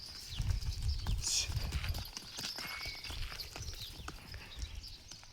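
Bullocks walk at a cattle traders' market in Tummalabeedu, their hooves clopping in an irregular series close by, with faint background voices and movement.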